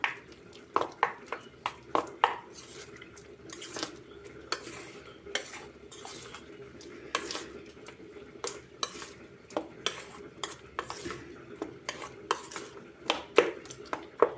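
A spoon stirs potol, chana dal and spices in a cooking pot, with repeated scraping knocks against the metal in an irregular rhythm over a soft background sizzle, close and moderately quiet.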